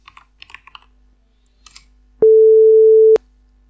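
After a few quiet keyboard taps, a single steady electronic tone from a tone chain sounds for about a second, loud and pure with an abrupt start and stop, like a plain generated sine beep.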